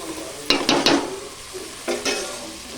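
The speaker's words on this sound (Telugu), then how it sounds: "అదిగోండి ఒక గ్లాస్ వాటర్ పోసాను." A glass of water hits chicken frying in a pan for palaav, setting off two loud bursts of hissing sizzle and stirring over a steady background fry.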